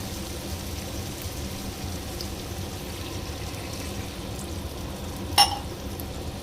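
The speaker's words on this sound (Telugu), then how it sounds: "ఇప్పుడు దీంట్లో 1 గ్లాస్ వాటర్ యాడ్ చేస్తున్నాను" A glass of water is poured into chicken curry frying in a pan, producing a steady hissing, rain-like wash with one brief sharp clink near the end.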